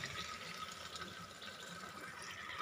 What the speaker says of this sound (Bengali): এবার এতে দিয়ে দেবো মাংস করার সময় যে জলটা বেরিয়েছিল সেই জলটা